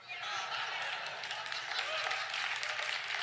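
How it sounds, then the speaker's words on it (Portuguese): A church congregation applauds in a dense, even wash of clapping that holds at moderate volume throughout, with no clear voice over it. "Aplausos."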